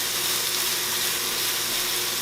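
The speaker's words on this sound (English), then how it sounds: "And you want to keep up that sizzle." Onions caramelizing in olive oil in a pan give a steady, close, even sizzle with dense crackling hiss that holds without a break.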